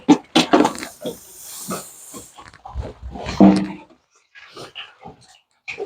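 Sows in the insemination section of a pig farm grunt, snort and hiss in short, irregular bursts close by, with a few louder squealing calls among them.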